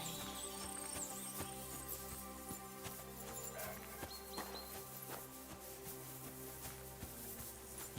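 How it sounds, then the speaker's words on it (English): Horses' hooves clip-clop faintly and rhythmically in Kingdom Come: Deliverance II, set against a low ambient game soundtrack. "Lovely horses you have here."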